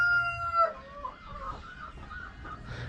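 Rhode Island chickens on a farm: a rooster's crow tails off into a run of soft, close clucks from the hens, with no one talking.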